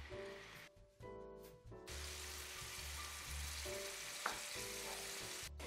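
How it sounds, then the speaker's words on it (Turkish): Chicken pieces, drained of milk, sizzle and crackle steadily as they fry in hot oil in a home kitchen, a close, continuous frying hiss with brief stirring or handling noises in between. "yağın içerisinde şöyle sütü süzülmüş tavuk etlerini pişireceğim"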